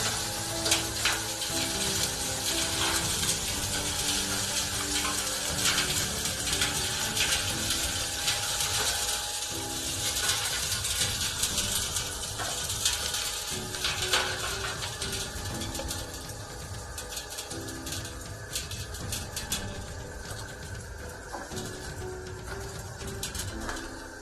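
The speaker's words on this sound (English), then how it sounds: "you will now use the sand sieving machine to sieve your sand easily and within a short time frame" A sand sieving machine working sand with a steady, loud mechanical rattle and rhythmic clanking that runs on without pause, with pigeon-like cooing faintly mixed in.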